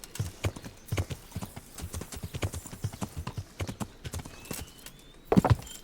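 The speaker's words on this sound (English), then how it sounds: "Okay, so I'm just stealing this horse, right?" Steady clip-clop of horse hooves trotting at a brisk, even rhythm in the video game Kingdom Come: Deliverance, close and fairly loud, with a brief louder thump near the end as the horse hits a fence.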